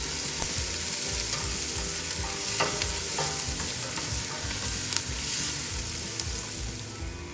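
Onion and ginger sautéing in a pan after the onion has browned, a steady close sizzle with occasional stirring scrapes and small crackles, no voices.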